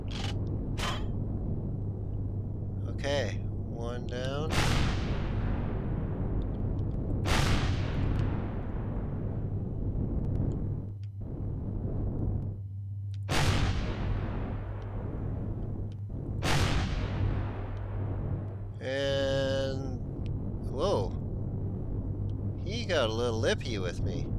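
Gunfire and missile impacts from the space survival game Empyrion, with repeated sharp blasts and booming hits spaced through a steady low engine hum and electronic warbles.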